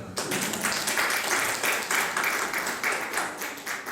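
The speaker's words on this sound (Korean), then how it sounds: "우리 아기를 위해서 박수 해야 돼요." Church congregation at a family Sunday morning worship service clapping to welcome a baby, steady moderate-level clapping throughout, somewhat distant and roomy with no talk over it.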